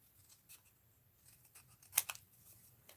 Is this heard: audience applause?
no